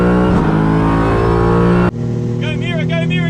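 Race car engine roaring loud and close at high revs, dropping sharply as a gear changes near 8,000 RPM, then climbing again; a voice can be heard over the engine.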